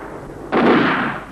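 A single sharp, loud shot fired at the Alcázar fortress in Toledo during the Spanish Civil War, bursting suddenly out of quiet and decaying over about a second.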